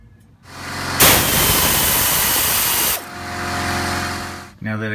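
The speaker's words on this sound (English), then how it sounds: "Now I'm gonna remove the 2 bolts holding the brake caliper on." Power tool loosening the two bolts on the brake caliper of a 2014 Yamaha Grizzly 550 ATV, a loud steady whir of about two seconds, then a quieter running hum with a short burst at the end.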